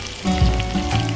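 Onions fry in a pan with a steady, close sizzle that crackles throughout, with no voices.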